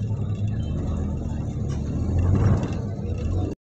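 A car reverses with its engine rumbling low and close, swelling briefly in effort partway through before the sound cuts off abruptly near the end.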